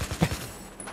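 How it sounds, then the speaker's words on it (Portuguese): Gunfire from the video game Battlefield 4: a short burst of a few rapid shots, moderately loud, trailing off into quieter game ambience. "Olha os tiros que não pega"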